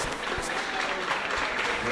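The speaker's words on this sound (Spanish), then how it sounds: "Un aplauso para ella, bien sonoro," A crowd claps loudly and continuously for a beauty pageant queen at a Colombian tourism festival, a dense wash of applause with a few sharper claps standing out.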